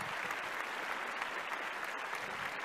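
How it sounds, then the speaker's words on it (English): A television studio audience on a dance competition show breaks into dense, even applause, a continuous wash of many hands clapping at once, held steady and fairly distant. "Let's give them a big round of applause."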